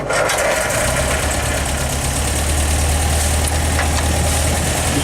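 A 1964 Land Rover diesel engine idles loud and close, a steady low rumbling throb with a clattering knock running throughout, no speech over it.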